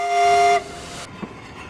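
A steam train whistle sounds a steady tone then cuts off, leaving a rumbling rail hum with a faint clank, fairly close.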